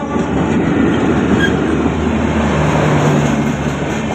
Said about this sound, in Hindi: ट्रेन आ गई है जी।